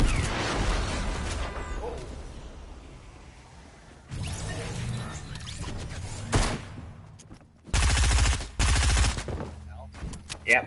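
Gunfire in the Fortnite video game: rapid bursts of shots, some in dense volleys, with crashes and whooshes around them, loud and close with pauses between strong bursts near the end; voices speak during it.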